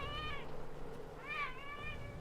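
A cat meows twice while waiting for breakfast, two drawn-out, fairly close calls separated by a short pause over a quiet background.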